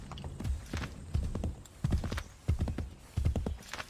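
A horse gallops in Assassin's Creed 3, heavy rhythmic hoofbeats thudding in quick clusters, close and loud, with no talk over them.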